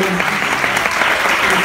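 Short burst of audience applause for Javiera at a music performance, steady close clapping from a crowd throughout, with a voice faintly audible under it.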